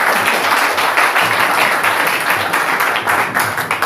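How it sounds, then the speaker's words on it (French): A church congregation applauding, loud sustained clapping from many hands filling the room, close and continuous throughout. "Applaudissons pour le Seigneur."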